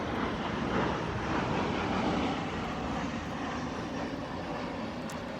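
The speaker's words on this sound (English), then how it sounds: "I'll wait for the plane, which is rude." A fixed-wing airplane passes overhead, a loud, steady broadband engine roar that holds level throughout with no talking.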